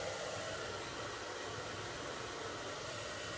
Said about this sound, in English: I'm blow drying it really at the root